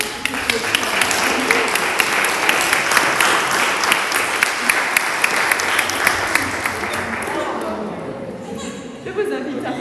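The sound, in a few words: congregation applause welcoming a newly baptized child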